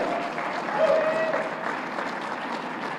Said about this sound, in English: a big round of applause for the staff of Suprema Cafe and Windfall Industries